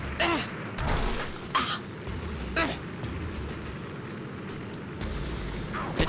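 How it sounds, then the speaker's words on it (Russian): Enemies blowing up in the video game Magicka 2, a series of sharp booming bursts over a constant rumbling game background, several blasts spaced about a second apart and fairly loud. "Они взрываются еще, самое интересное."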